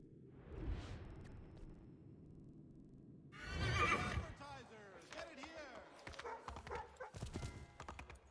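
A horse in a historical open-world action game whinnies once near the start, then a burst of noisy activity with faint hoof clops follows, while someone talks over it.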